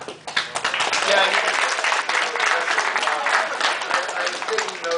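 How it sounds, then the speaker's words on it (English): Audience applause at the end of an evening conference session, a full room clapping loudly and steadily for several seconds after a short quieter start. "so you can have some applause right now"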